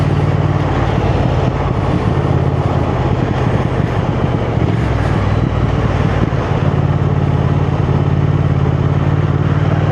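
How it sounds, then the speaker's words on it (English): A Triumph Thruxton 1200 motorcycle runs steadily with a loud, continuous engine and exhaust note on a first ride, close and constant throughout, with no distinct pops or crackles standing out. "you do get the pops and crackles from that exhaust as well when you have the revs up"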